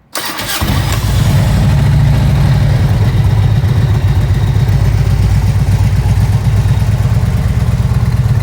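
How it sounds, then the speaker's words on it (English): A 1999 Harley-Davidson Road King Police motorcycle with a fuel-injected 88 cubic inch engine cold-starting: a brief crank, then a loud, close, steady lumpy idle rumble that runs on without speech. "Fires right up, sounds great. 88 cubic inch, fuel injected."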